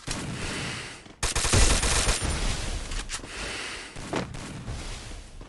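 Bursts of rapid automatic gunfire from the game Free Fire crackle loudly, a short volley followed by a longer barrage and a few scattered shots.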